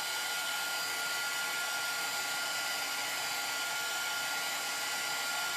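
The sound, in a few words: heat gun drying a transfer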